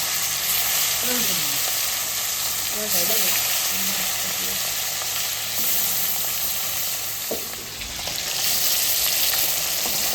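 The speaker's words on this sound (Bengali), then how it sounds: "দিদাও এবার যেই মাছটা ভাজা খাবে সেই মাছটা আগে ভেজে নিই" Damodar river fish fries in hot oil with a loud, continuous close-up sizzle, and a few brief voices speak faintly over it.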